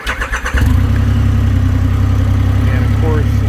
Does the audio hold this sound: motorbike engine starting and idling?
yes